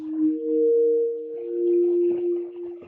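A sine pad synth built in FL Studio's Sytrus, drenched in reverb, holds one smooth continuous chord with soft washing tails and faint extra textures throughout.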